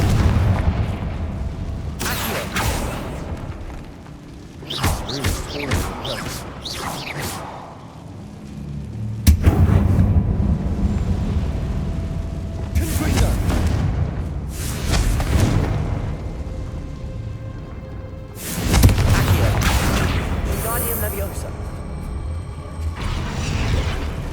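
Repeated booming spell blasts in the Hogwarts Legacy video game, the Confringo fire spell erupting in several loud bursts separated by quieter stretches of ambient game sound.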